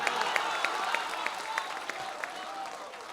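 Audience applause at an All India Mushaira poetry gathering in Motihari, steady crowd clapping with scattered sharper claps, moderately close and continuing throughout.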